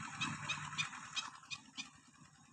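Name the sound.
bird calling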